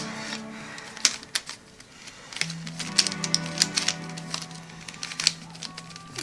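Wooden puzzle blocks knock and clack together as they are scrambled, with a sharp close tap, then an irregular stretch of clicks and rattles over a steady hum.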